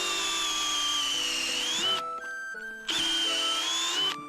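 A power drill bores a 12 mm hole into a maple tree trunk for sap tapping, with two sustained high whirring bursts separated by a short pause, close up.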